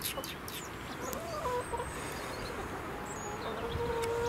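Hens in a chicken coop on an allotment cluck and murmur softly in a steady chorus, with a few sharper calls rising above the low background.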